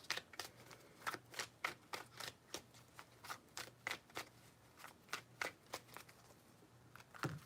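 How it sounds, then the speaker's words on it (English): Tarot cards are riffled and shuffled in quick bursts, about a dozen crisp flutters in an uneven rhythm, close and fairly quiet, with no talk over them. "Three shuffles."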